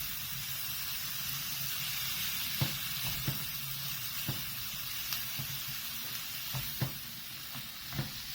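Finely chopped tomatoes and onion frying as a masala in a little oil, a continuous soft sizzle with occasional sharp pops and stirring clicks, moderately quiet and close, no talking.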